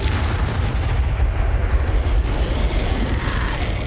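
Confringo fire spell going off in Hogwarts Legacy, a dense rumbling blast with a deep low boom that keeps roaring steadily and loudly for several seconds without letting up.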